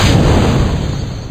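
A loud, roaring blast of a rocket launch in Kerbal Space Program, a dense rumbling burst that fades slightly over a second or so.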